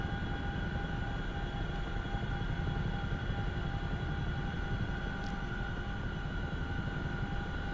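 A steady, dense engine roar and rushing wind noise, loud and constant as an aircraft comes in to land, with no talk.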